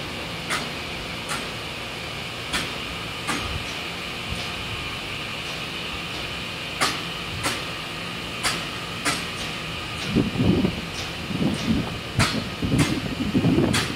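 A Taiwan Railway EMU900 ten-car electric multiple unit departs Ruifang station, a steady hum and hiss with regular rhythmic clicks of wheels over rail joints and a rumbling rise near the end.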